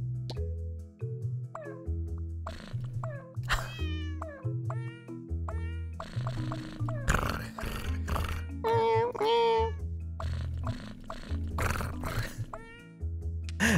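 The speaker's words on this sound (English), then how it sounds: "Do you all hear the little meows?" Cats in the puzzle game Cats Organized Neatly give repeated short, cute meows and little chirps, scattered through soft game plops and background music, with a person talking over them.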